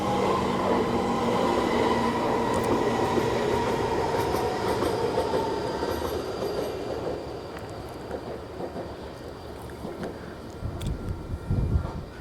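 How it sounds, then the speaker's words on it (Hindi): A passenger train passes near Olympic Park in Auckland, its loud rumble and rail noise rolling steadily close by, then easing off slightly before a heavier burst near the end. "यहाँ पर ये देखें ट्रेन आ गई जी।"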